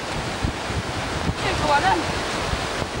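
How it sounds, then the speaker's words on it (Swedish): High ocean waves on the shore of Île Royale, French Guiana, a steady roar of surf mixed with wind buffeting the microphone, with a voice briefly speaking over it. "Ganska höga vågor, men..."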